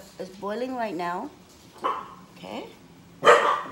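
A dog barks and yips excitedly in a few short bursts, close by, while a person talks over it.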